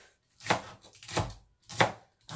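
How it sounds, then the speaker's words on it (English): Scallion and garlic being chopped on a board, three separate bursts of rapid knife strokes with short quiet gaps between, close and clear. "I'm gonna cut them up and put all of those together."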